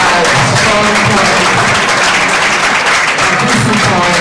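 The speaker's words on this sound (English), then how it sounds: "A big round of applause for you two." Loud, dense applause from the audience at a World Cancer Day celebration as two guests join the stage, a continuous close wash of many hands with some crowd murmur underneath.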